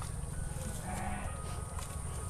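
Garol ewe bleating on a sheep farm in Sylhet, short bleats over a low steady background rumble, moderately close.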